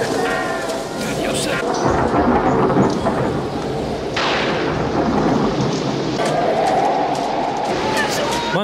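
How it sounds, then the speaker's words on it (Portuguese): A sudden thunderstorm in a Karate Kid film scene: loud rolling thunder over steady heavy rain, with a sharp crack partway through and a faint murmur of voices beneath. "Mano, do nada uma tempestade"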